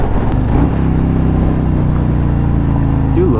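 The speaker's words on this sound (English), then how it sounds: "I do love the sound of this bike though, man." Steady, close engine drone of a motorcycle riding through evening city traffic, a continuous low harmonic hum with slight pitch shifts, no voices.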